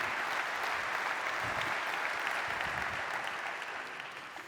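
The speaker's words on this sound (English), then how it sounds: "Let's give Ihab a round of applause." A conference audience gives a steady round of applause, many hands clapping evenly throughout before the sound starts to taper off toward the end.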